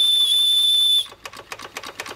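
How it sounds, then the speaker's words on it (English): A working steam whistle on a 1/10th scale Markie live steam model crane sounds one loud, steady, shrill blast for about a second, then cuts off into rapid rhythmic puffs of steam. "And just to finish off with a working whistle."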